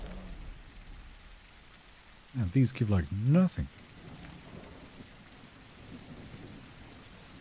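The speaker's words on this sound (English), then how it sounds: "And it rains again." Rain and thunder in the survival game The Isle make a steady wash of rainfall with low rumbles, while someone speaks briefly over it.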